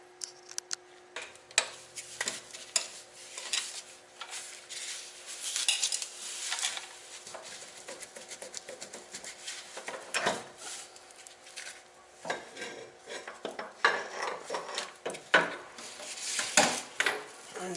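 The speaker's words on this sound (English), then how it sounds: "Now I'm just going to go underneath and dislodge this axle from the inner shaft" Metal clanks, taps and scraping knocks from work under a 1993 Honda Accord CB7 with an H22 transmission, as the axle is pried and dislodged from the inner shaft, sounding as irregular close-up clatter with no talk.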